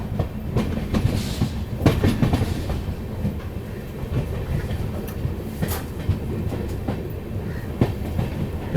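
Swarn Nagri Express passenger train rolling through the Thar Desert, with a continuous loud rumble and rhythmic clickety-clack of wheels over rail joints, punctuated by sharper metallic knocks.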